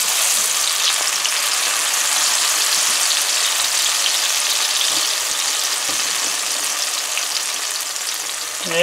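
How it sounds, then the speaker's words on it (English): Onions, scallions and a cinnamon stick hit hot oil for a mango curry, giving a loud, continuous close-up sizzle and crackle that holds steady throughout. "our oil is hot and we're going to add our onions and scallions there first with our cinnamon stick"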